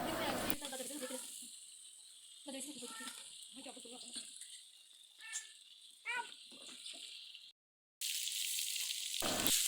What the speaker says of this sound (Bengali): চুলার আঁচটা হাই হিটে রেখে মুরগির পিসগুলো হালকা করে ভেজে